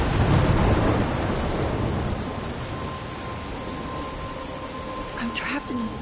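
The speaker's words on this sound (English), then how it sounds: "I'm trapped in a storm?" Dense rain and low rumbling thunder from a storm in the video game Life is Strange Remastered, a heavy continuous wash of noise with a brief voice near the end.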